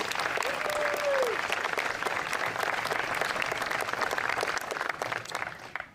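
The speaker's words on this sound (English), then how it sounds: "Please give them a big round of applause." A crowd applauds steadily at an outdoor statue unveiling, a dense, sustained clapping that carries on for several seconds, with a brief whistle near the start.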